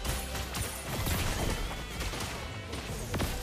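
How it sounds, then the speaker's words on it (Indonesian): Rapid gunfire in a video game, a dense string of sharp shots and impacts that crack and thud in quick succession, loud and close, with clustered bursts throughout. "Tembakan beruntun."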